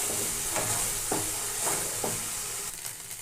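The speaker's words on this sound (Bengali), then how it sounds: "সবার প্রথমে মশলাটাকে ভালো করে কষিয়ে নেব।" Ginger paste and chili paste sauté with whole spices in a hot pan, producing a continuous loud sizzle with a few stirring scrapes at intervals and no speech.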